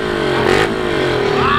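A motorcycle idles steadily with a brief rev in the middle while its rider parks at a bike meetup, the engine's harmonic drone continuous and close throughout.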